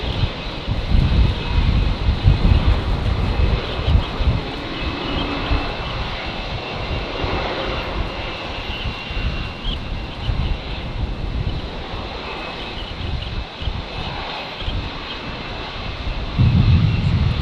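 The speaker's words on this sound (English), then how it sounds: "Runway on the right, clear to takeoff." A Rex passenger aircraft takes off at windy Brisbane Airport, its engines a sustained broad roar that swells and holds at steady loudness throughout, mixed with wind buffeting the microphone.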